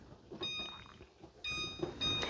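Kitchen timer beeping after being set for an oven-baked chicken stew, with two short bursts of faint, high-pitched electronic beeps separated by a brief pause.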